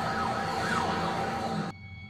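A wailing ambulance siren sweeps up and down over steady road noise, loud and close, then cuts off abruptly near the end.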